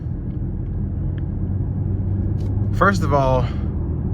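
A 2023 BMW X6 xDrive40i M Sport with a 3.0-litre turbo engine drives on the road, heard from inside as a steady low cabin rumble, with someone speaking briefly near the end.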